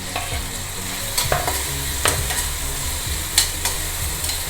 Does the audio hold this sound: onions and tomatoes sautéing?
yes